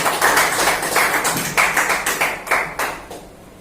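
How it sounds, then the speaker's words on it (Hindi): Audience applause welcoming a chief guest at a health motivational talk: loud, rhythmic clapping in unison with regular beats, steady for a few seconds before fading at the end. "उनको जोरदार तालियों से यहाँ स्वागत करेंगे"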